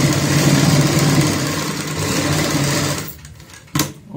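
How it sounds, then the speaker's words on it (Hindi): A sewing machine stitches a designer baby frock, running steadily and loudly for about three seconds before stopping, then giving one more short burst near the end. "अब हम सिलाई की शुरुआत करेंगे।"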